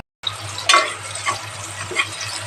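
Onion sizzling as it hits hot oil and ghee in a pan for soybean biryani, a close, steady frying hiss with a few stirring scrapes and bursts of spatter.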